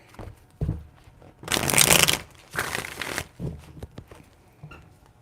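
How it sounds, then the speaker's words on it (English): Tarot cards are shuffled in quick riffling bursts, several close, crisp rustles and flaps with short pauses between them, loud and near with no talk. "3 shuffles."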